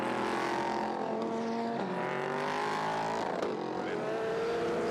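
Race cars leave pit lane at Dubai Autodrome during a 2023 Asian Le Mans Series race, engines roaring steadily and loudly with overlapping revs and shifting pitch as several cars accelerate away.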